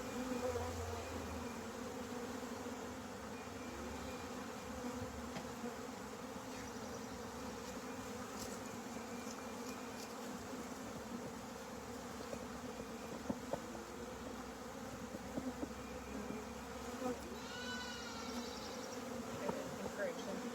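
Swarm of honey bees humming in a steady, dense drone throughout, close and continuous, with a few brief knocks and a faint rustle near the end.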